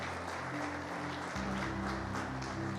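A church congregation claps for the mothers during a sermon, a steady wash of applause over a sustained low musical drone from the sanctuary's music.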